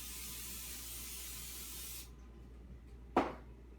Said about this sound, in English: so make sure you spray your pan